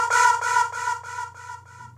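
A synthesizer patch made in NI Massive: a bright, pulsing lead tone repeating in regular throbs over a low buzzing drone, fading slightly over about two seconds.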